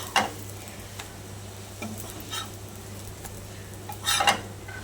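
Omelettes frying in a pan give a soft, low sizzle under a steady hum, broken by a few brief metallic scrapes and clinks, close and fairly quiet.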